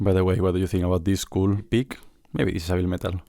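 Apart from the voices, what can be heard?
No everyday noise stands out behind the speech.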